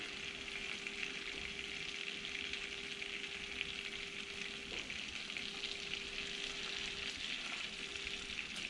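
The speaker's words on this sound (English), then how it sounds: "So we're going to just use the frying pan." Steady, even sizzling of bluegill fish fillets frying in a hot frying pan, a continuous crackling hiss with a faint tonal hum underneath and no voices.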